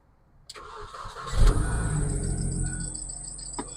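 An R53 Mini Cooper S engine cranks and catches with a sharp start, then settles into a steady idle with a high, thin drive-belt squeal riding over it, loud and close, with no voices.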